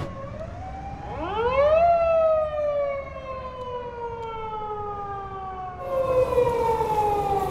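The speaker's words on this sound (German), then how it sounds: "die Sirene bedeutet, dass es vorbei ist." A loud siren winds up, then holds a long, slowly falling wail, a second tone rising again near the end, marking the end of a car tuning meet in Tokyo.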